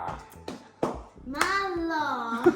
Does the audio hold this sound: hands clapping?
yes